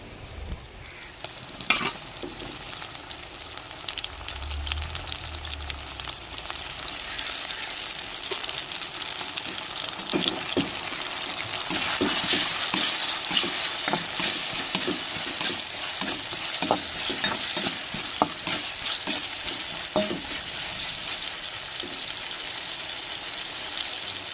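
Onion, tomato and ginger paste sauté in a pan for a squid gravy, making a continuous close sizzle with stirring and scraping that grows busier and louder midway, and no one speaks.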